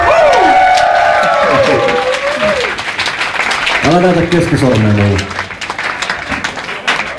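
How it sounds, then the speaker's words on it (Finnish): A concert audience applauds and cheers for the sound mixer: a steady wash of clapping and crowd noise runs the whole time, with people talking loudly over it. "Annetaan aplodit miksaajalle."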